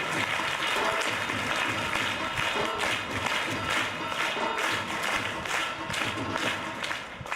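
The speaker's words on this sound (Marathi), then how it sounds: "जोरदार टाळ्या सर्व मान्यवरांचा" Sustained, dense applause from a large crowd at a felicitation ceremony, steady and loud throughout with no pause.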